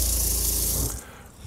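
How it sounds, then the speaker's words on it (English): Pump-fed faucet in a 2023 Ford Transit camper van build, water gushing loudly into the sink and then cut off abruptly, leaving a faint trickle, with no talk. "The power switch for the pump switch turns on. You've got full water flow in here."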